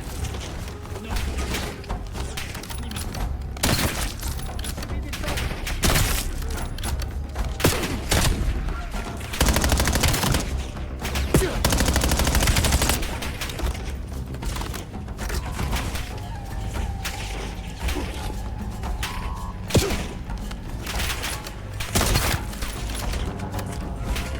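Rapid gunfire in the Black Ops 7 campaign, dense bursts of shots and mechanical weapon clatter, with a long sustained volley in the middle and sharp cracks scattered throughout, loud and close.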